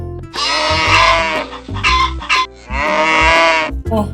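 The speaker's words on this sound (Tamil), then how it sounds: "மாடு, ஆடு, கோழி எல்லாமே சத்தம் போட்டுக்கொண்டே இருந்தது" Goats, cows and hens calling loudly and close, long bleating and lowing cries overlapping in several bursts, with a short clucking note near the end.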